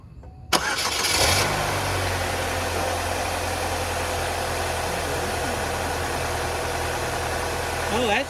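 A 2002 Pontiac Grand Am SE with a 2.2 engine cranks and fires, then settles into a steady, even idle that drones on close by, with faint background noise.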